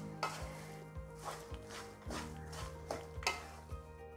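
A spoon stirs thick walnut burfi mixture in a pan, with rhythmic scraping strokes about every half second over a faint sizzle, close and steady with no talking.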